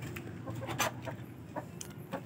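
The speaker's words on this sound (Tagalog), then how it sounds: "At ito naman po ang ating Rhode Island." A Rhode Island Red hen makes a few soft, scattered clucks at a heritage-breed poultry pen, quiet and intermittent against a low background hum.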